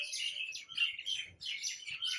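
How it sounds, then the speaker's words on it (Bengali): Birds in a home garden chirp and twitter in quick, overlapping bursts, close and lively, with no one talking over them. "করছে পাখিগুলো এত কিচিরমিচির"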